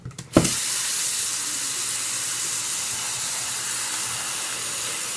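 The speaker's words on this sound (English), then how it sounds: "Then he decided to turn some water on." A tap is turned on after a short knock, and water then runs in a steady, even hiss until the end.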